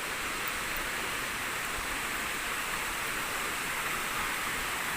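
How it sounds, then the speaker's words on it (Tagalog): Steady broadband rushing of a waterfall, heard from nearby at a summer outing spot, a continuous even roar with no breaks and no voices. "Guys, malapit na tayo sa falls."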